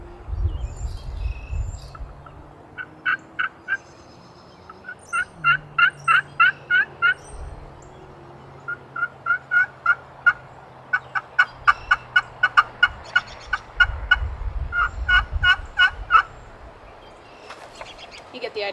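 A mixed-wood turkey call scratched by hand imitates a turkey's gobble in repeated rapid yelping bursts, close and clear, with a low voice murmuring at times.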